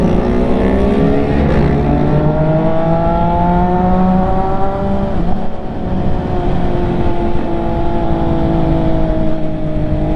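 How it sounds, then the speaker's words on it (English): Several MV Agusta motorcycle engines warming up on a cold start, a steady layered drone with rising and falling revs that stays loud and continuous throughout. "waiting on the bikes to warm up"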